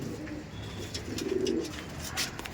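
Madrasi pigeons, a tournament-quality breed kept for sale in Dum Dum, coo in a low, soft murmur that swells briefly mid-clip, with faint background noise and no voices.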